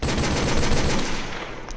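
Desert Eagle pistol fired in a video game: a rapid, dense string of loud, close gunshots that blur together into a continuous burst before tailing off.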